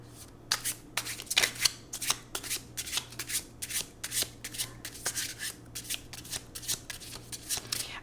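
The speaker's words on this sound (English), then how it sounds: "as I'm shuffling and I'm zoning out to this card" A deck of tarot cards is shuffled repeatedly up close, a steady run of crisp riffling bursts with short pauses between them.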